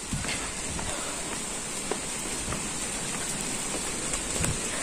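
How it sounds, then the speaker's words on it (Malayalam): Steady rain falls outdoors near a parked vehicle, making a dense, even hiss with faint scattered drips. The sound stays constant with no talking. "മഴ പെയ്യുന്നുണ്ട്"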